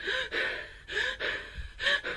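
A voice imitates heavy, out-of-breath breathing: a close series of loud, rasping in-and-out gasps in a steady rhythm, about four breaths, with no other sound.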